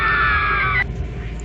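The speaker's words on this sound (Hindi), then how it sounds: "बाहर वो चुड़ैल आक्रोश करते हुए चिल्ला रही थी।" A witch in a horror story lets out a shrill, angry scream, a sustained high wail lasting under a second before cutting off abruptly into quiet.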